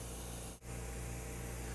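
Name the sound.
M-Vac solution spray fanning out of sampling head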